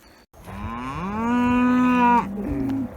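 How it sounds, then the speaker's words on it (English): A cow on a ranch gives a long, loud, close moo that rises and holds, then breaks into a shorter second bellow, with little else around it. "Cows are unsettled for some reason, but these 2 yearlings are chasing that cow there."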